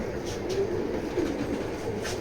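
Racer pigeons coo softly and repeatedly, low murmuring calls close by amid a faint background hum.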